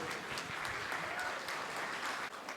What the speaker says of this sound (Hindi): कृपया सब लोग खड़े होकर के इनके सम्मान में ताली बजाएं।